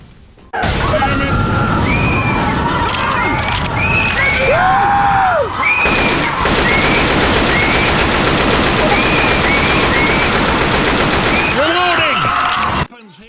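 Dense, continuous gunfire from the first-person shooter game Painkiller, with rapid automatic bursts and booming blasts running almost nonstop for about twelve seconds, loud and up close, with brief rising synthetic sweeps between volleys.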